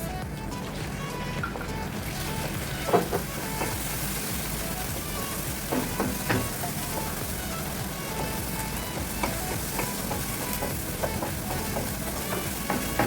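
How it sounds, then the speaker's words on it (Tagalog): Browned garlic and green peas sizzling in a pan for tofu with egg, a steady even frying hiss with occasional clinks and stirring scrapes throughout. "Ayan, kapag medyo na-brown na yung garlic guys, ilagay na natin itong green peas."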